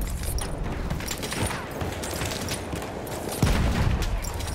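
Enemy machine gun fire in a war video game, rapid rattling bursts heard at a distance amid a dense battlefield din, with a heavier thump near the end.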